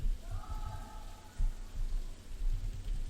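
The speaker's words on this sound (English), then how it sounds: "I'm not gonna stop because of the rain." Steady rain falling and pattering on a surface, with soft low thumps, close and fairly even throughout.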